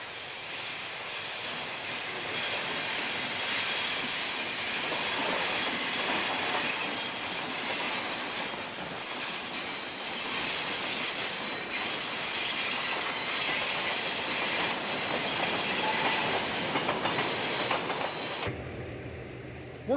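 A Lehigh Valley train runs westbound on the Hazleton branch at dawn, a loud, steady rumble of rolling railcars with wheel squeal and clickety-clack, ending abruptly.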